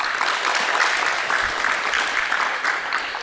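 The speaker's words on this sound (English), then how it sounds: "Can we give them a round of applause for coming out?" A crowd claps for the helpers on the baseline at a youth basketball clinic, a continuous, even wash of applause from nearby without a break.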